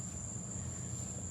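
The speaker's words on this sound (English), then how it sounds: "you're going to hear nothing but, insects and cicadas and stuff like that" Insects and cicadas chirping outdoors, a steady high-pitched drone held continuously throughout, fairly faint with a low background rumble and no talking.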